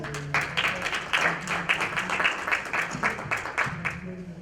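Audience applause at a panel discussion on social impact and sustainable community development, a burst of separate claps with a few voices murmuring underneath.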